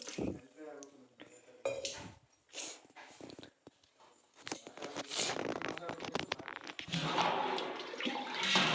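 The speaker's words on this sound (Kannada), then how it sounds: "ಒಂದು ಲೋಟ ನೀರು ಹಾಕ್ತಾ ಇದ್ದೀನಿ" A glass of water is poured into a cooking pot of tomato, onion and dal sambar already seasoned with chilli powder and salt; a splashing, rushing pour swells and stays loud over the latter half, with a voice speaking earlier.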